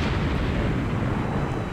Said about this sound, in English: I'll launch off another spread of torps at the enemy Wyoming coming through middle.